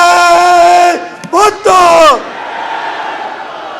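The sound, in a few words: crowd loudly chanting a slogan in response at a rally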